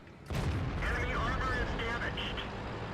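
Artillery fire in the World of Tanks video game, with a loud, dense boom that swells and holds as a rumbling roar, while a voice talks over part of it.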